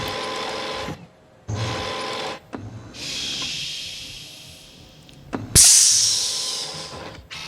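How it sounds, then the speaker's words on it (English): A robotic arm machine in Resident Evil 2 Remake spins and screws, giving loud mechanical whirring and hissing in several bursts separated by short pauses. "the animation of the robotic arm as it spins and turns and screws"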